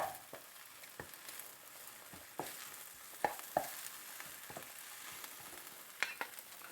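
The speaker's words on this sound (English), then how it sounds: "Give these greens another stir." Greens seasoned with salt and pepper fry in a pan, a faint steady sizzle broken by a series of sharp utensil clicks and scrapes as they are stirred, with no talking.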